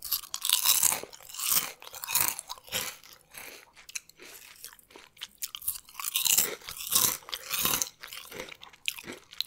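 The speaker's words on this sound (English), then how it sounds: "Very crunchy, very crispy." Loud, close crunching of crispy chips, repeated bites and chews in an uneven rhythm, no talking.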